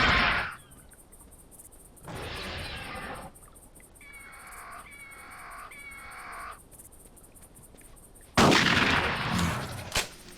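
Gunshots ring out during a dinosaur hunt in the video game Carnivores Genesis, with sharp loud bursts opening and closing the sequence, separated by quieter creature calls.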